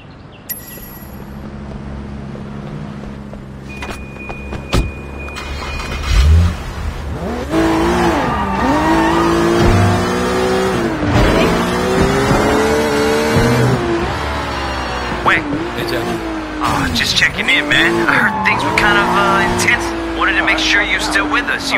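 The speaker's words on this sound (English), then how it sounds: "handy dandy sports car" Sports car engine in the Sleeping Dogs video game, revving up through rising and falling sweeps over several seconds, loud and close, with game dialogue and background music around it.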